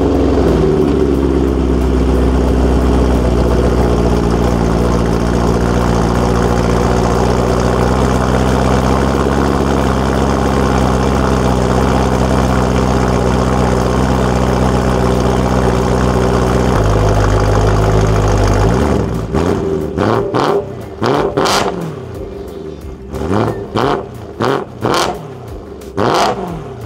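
A BMW E92 M3 engine idles with a steady deep rumble for a long stretch, then bursts into a series of sharp, loud revs close by.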